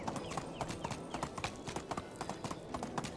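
Horse hooves clip-clop in a steady, quick rhythm as a mount travels in the medieval life-sim game Medieval Dynasty, each footfall sharp and close with no other sound competing.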